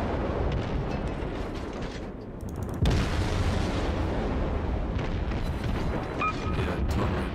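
Naval guns fire in a World of Warships cruiser battle: a dense, continuous roar of booming cannon blasts and explosions, loud and close, with a sharp heavy salvo near the middle.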